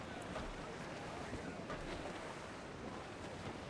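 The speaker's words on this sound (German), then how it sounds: "Der Wind wird immer stärker" Strong wind and rough sea while sailing a ship in Assassin's Creed IV: Black Flag, a dense continuous roar of gusting wind and crashing waves.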